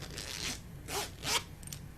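A zipper on the padded case of an Olympus LS14 digital recorder is pulled in three short, close strokes, each a bright rasping burst, with a faint fourth tug at the end.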